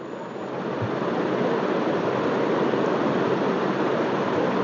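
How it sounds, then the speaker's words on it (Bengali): Water poured into a pan of spiced potatoes makes a steady, loud, broad rushing hiss that rises in the first half-second and holds evenly to the end; no voices. "এখন আমি এখানে কিছুটা পানি দিয়ে দিব আলুটা সেদ্ধ হওয়ার জন্য আমি এখানে কিছুটা পানি দিয়ে দিচ্ছি"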